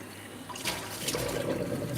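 Tap water runs and splashes as fish tank equipment is rinsed, a faint gurgling flow that swells and trickles over a couple of seconds with no talking.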